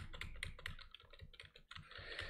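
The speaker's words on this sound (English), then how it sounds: "I kept panic pressing my attack button" Computer keyboard keys clatter in quick, uneven bursts of taps during a game, faint and close, with no talking.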